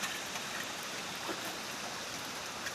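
Irrigation water running from a river toward a garden in a rural Philippine setting, a steady close broadband rush with a few droplet splashes and no voices.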